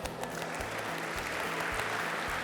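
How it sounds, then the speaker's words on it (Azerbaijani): A crowd at a competition event applauds the judges, a steady wash of many hands clapping at moderate distance, with a faint low voice or hum beneath it. "Hakimlərimizi alqışlayaq."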